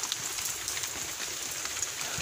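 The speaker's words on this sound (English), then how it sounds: "It's rainy time." Rain falls steadily in a muddy yard, a soft even patter of drops on surfaces with a few louder nearby splats, no talking.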